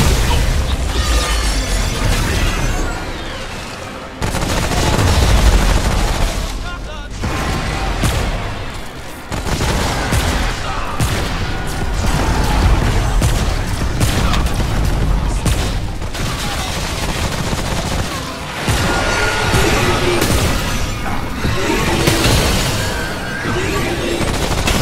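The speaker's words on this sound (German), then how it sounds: "Ich habe auch nochmal geschossen." Weapon fire in the co-op shooter Remnant from the Ashes: dense bursts of gunshots and booming explosions, loud and nearly continuous with brief gaps, a chaotic firefight with no talk over it.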